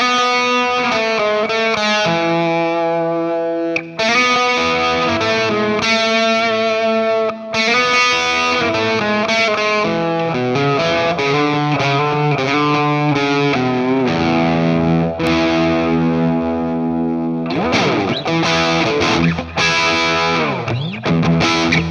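An electric guitar with Imperial Lawler pickups runs through a Salvation MTS module, giving a loud, continuously sustained distorted tone with chorus-like shimmer. Chords and bends ring out close, with only brief dips in the sound.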